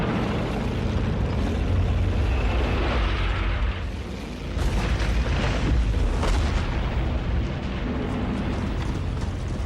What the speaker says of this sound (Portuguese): bombardeando-as com lançadores de foguetes que eles chamam de órgãos de Stalin